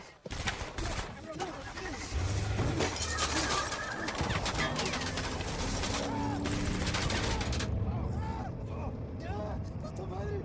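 Gunfire in a French-dubbed action film, with bursts of shots over a dense, loud mix of crashes and scoring that runs the whole way, and voices and cries mixed in.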